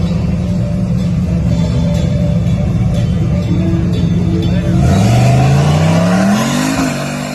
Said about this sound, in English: It's the longest burnout I've seen.